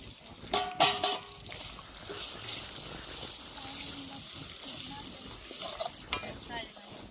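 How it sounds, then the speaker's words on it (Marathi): Spices are stirred into frying onion and tomato in a pan outdoors while a crab curry cooks, starting with a few sharp utensil clatters, then settling into a soft, continuous sizzle with light scraping strokes. "आता मसाले टाकून घेते."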